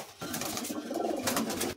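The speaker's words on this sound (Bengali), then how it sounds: "তাহলে নর পায়রাগুলো শখ করাচ্ছে দাদা।" Male Madrasi racing pigeons in a loft give low, continuous cooing that swells and overlaps from close by, with a soft rustle underneath.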